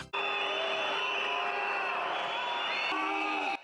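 Loud, dense shouting of a crowd of several thousand people at a political rally in Georgia, a continuous roar with whoops and cheers held steady throughout, close and unbroken before it cuts off near the end.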